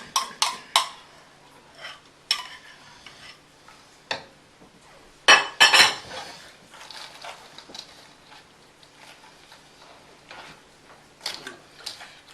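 A spoon clinks and taps against a bowl while chicken and mayonnaise are tossed together, sounding as scattered sharp knocks with short quiet gaps between them. A louder cluster of clatter comes midway, then lighter ticks.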